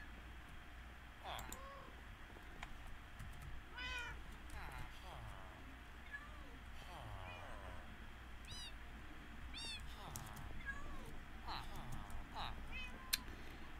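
Cats meow repeatedly in the video game Minecraft, short rising mews scattered across the clip over steady background music, with someone talking throughout.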